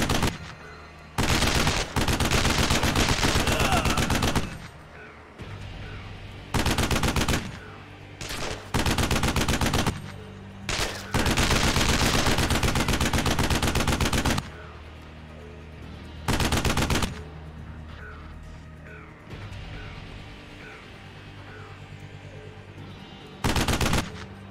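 Bursts of machine gun fire from a gun emplacement in the video game Terrorist Takedown 2: loud, rapid automatic volleys lasting one to three seconds each, broken by short quieter gaps with lighter background game sounds.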